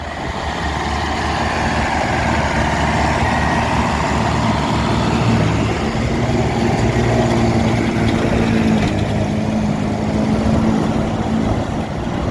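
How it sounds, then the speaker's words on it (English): Vintage tractor driven during silage harvest, its engine a steady loud rumbling drone that holds evenly close by throughout with no pauses. "Shane Lyons, driving the tractor"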